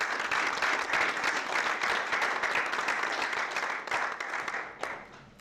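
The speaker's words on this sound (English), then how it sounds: "if everyone could also give her a round of applause." A room full of attendees at a school district annual meeting applauds, giving a dense, steady burst of clapping that holds for several seconds and then tapers off near the end.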